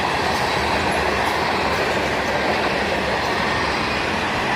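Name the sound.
CSX freight train of tank cars passing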